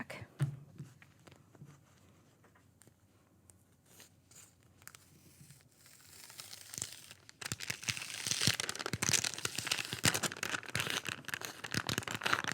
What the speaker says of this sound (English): I'm taking my time as I peel this back